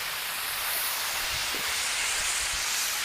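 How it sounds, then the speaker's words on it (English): Onions and peppers sautéing in butter in a pan, a dense steady hiss of frying that holds without a break for a few seconds, close and fairly loud, with no voices. "I'm going to start sauteing the onions and peppers"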